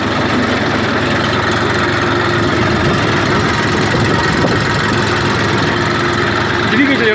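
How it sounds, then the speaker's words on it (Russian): A Saturn ST2501 mini tractor engine runs at a steady idle, a loud, even low rumble with a knocking diesel texture that holds constant throughout. "Работает двигатель очень ровно."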